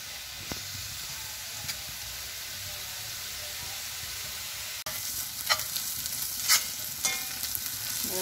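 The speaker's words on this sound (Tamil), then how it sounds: "இந்த வெங்காயம் தான் முதல்ல வதங்கிட்டோம்" Onions sautéing in a pan over a medium flame give a steady high sizzle, with a brief break midway and then scattered louder crackles and stirring scrapes, close and without talk.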